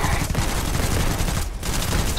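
Rapid automatic fire from an AK rifle mod in the video game Starfield, a dense continuous burst of shots with a brief gap partway through, loud and close.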